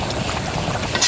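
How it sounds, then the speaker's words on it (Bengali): Steady wind blowing through a mango tree beside a pond, a continuous breathy rush buffeting the microphone at close range, swelling slightly at the end with no voices. "এই যে আম গাছের দিকে তাকালে বোঝা যায় বাতাস কেমন বইতেছে"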